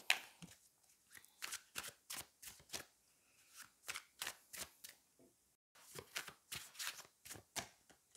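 Tarot cards being shuffled by hand up close, giving quick rhythmic riffling flutters in two runs separated by a brief pause.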